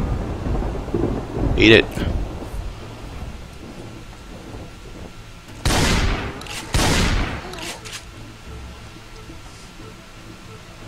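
Thunder rolls twice in Project Zomboid over a steady hiss of rain, with a crackling crash early on and two long booming peaks later, while someone speaks briefly in the middle.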